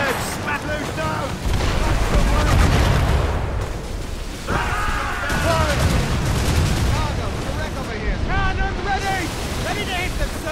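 Ship cannon fire during a naval battle in Assassin's Creed Rogue booms amid crashing waves, wind and ocean roar, with shouted voices over the dense, continuous battle noise.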